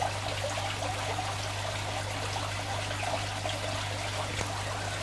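Water trickles steadily through an acclimation drip line into a container holding yellow sakura shrimp, a continuous soft stream over a low mains hum.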